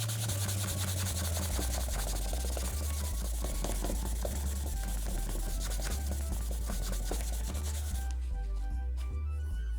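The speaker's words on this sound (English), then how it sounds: "Spray a little bit of that Goo Gone on there, and let us give it a clean." Scrubbing an old game cartridge after spraying it with Goo Gone, a steady rough rubbing and scraping that continues throughout, close up, over a faint low background beat.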